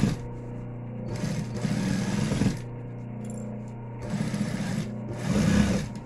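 A sewing machine stitches close to the edge of a thermal lunch bag in several bursts of rapid, even whirring separated by short pauses, close and clear with no talking.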